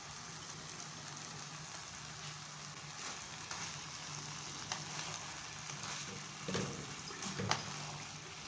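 Lightly fried chopped potatoes cooking in aloo keema, a steady close sizzle and crackle of frying with occasional stirring scrapes.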